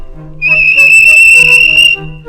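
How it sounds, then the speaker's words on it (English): A loud, sustained high whistle blows for about a second and a half, starting abruptly and cutting off cleanly. "the whistle blew, and James thought they'd better go"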